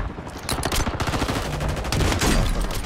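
Sustained gunfire in Warzone 2 on Rebirth Island, with dense overlapping automatic bursts and rapid shots that fill the whole stretch loudly and continuously, with no voice over them.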